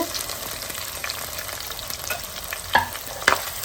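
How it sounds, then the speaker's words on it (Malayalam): Ginger, onion, shallots and green chillies sautéing in a pan, a continuous close sizzle with frequent stirring scrapes and two sharper clanks of the spatula near the end, no voices. "നന്നായി വഴറ്റുക"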